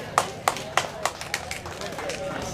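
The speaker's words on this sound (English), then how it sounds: "Y'all are not clapping hard enough" Scattered, light clapping from a small audience at a Tennessee youth bass fishing tournament weigh-in: a handful of sharp, separate claps that thin out quickly, with voices talking over them.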